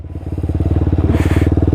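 A 125cc four-stroke motorcycle engine revs hard and close, a loud steady pulsing roar with fast regular firing beats that climbs slightly toward the end, with no talking.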